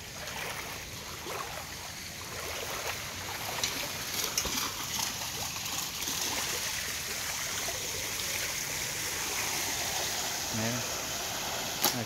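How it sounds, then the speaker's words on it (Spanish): Floodwater runs steadily along a flooded street in El Salvador after heavy rain, a constant rushing wash at moderate distance with faint background sounds. "el agua, como ya no tiene otra salida, se mete a los terrenos"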